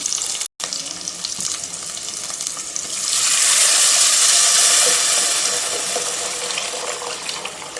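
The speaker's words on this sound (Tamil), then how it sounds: "நல்ல புளி தண்ணி அது எல்லாமே கொட்டிடலாம்" Tamarind water is poured into sizzling fried masala for a fish curry, giving a loud, steady rush of liquid and hissing that swells after a brief pause and then holds, with no talking.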